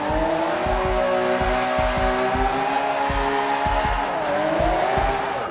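A 2013 Mercedes-Benz E63 AMG in rear-wheel drive drifting in the Forza Horizon 2 game. A continuous loud tire squeal and skid rides over a steady engine drone, with rhythmic thumping pulses throughout and no speech.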